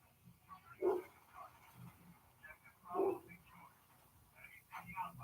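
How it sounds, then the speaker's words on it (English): Dogs bark in the distance, a few muffled barks recurring at irregular intervals, faint and partly under someone talking indoors. "Oh my, dogs are barking like crazy."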